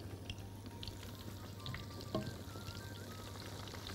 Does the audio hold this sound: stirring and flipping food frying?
yes